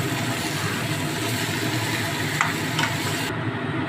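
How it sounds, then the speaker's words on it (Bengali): Chicken chaap stirred with red chili in a frying pan, a steady close sizzle with a few scraping spoon strokes near the end before the sound briefly cuts off. "এবার আবার লাল লঙ্কা দিয়ে ভালো করে এটাকে নাড়াতে হবে।"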